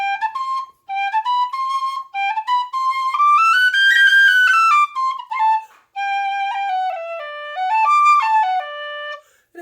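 A Delrin soprano D tin whistle plays a melodic phrase of clear, bright sustained notes, with short breaths between phrases and a few quick ornamented runs, heard up close and alone.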